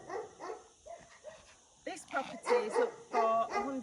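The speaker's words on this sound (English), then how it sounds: "The dogs are barking because we've just walked past them." Dogs barking in a small village in the Algarve, Portugal, a series of close, loud barks and yips in bursts, growing busier toward the end, with people talking nearby.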